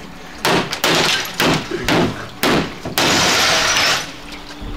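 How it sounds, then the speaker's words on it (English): A TV being smashed: a series of loud, sharp crashing impacts with glass breaking, five or six bursts at irregular intervals, ending in a longer sustained shattering clatter. "Yeah, that went through the glass."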